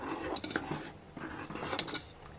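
Gobindobhog rice is stirred into a small amount of milk in a pot, producing light scraping, rubbing and clinking of a utensil against the pot in quick irregular strokes at close range, with no one talking.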